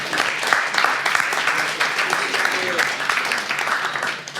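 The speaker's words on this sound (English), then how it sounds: "You can applaud them because what they're doing are amazing." A conference audience claps steadily and moderately loudly for several seconds, the applause dense and even with faint voices mixed in.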